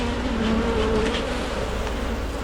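Honey bees from a honey-producing colony buzz loudly and continuously at an open hive, a dense close swarm drone with no talking over it.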